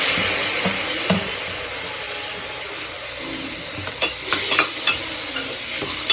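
Beef liver masala sizzles steadily in a steel pressure cooker, with a spoon stirring and scraping in several clear strokes near the end, close and fairly loud.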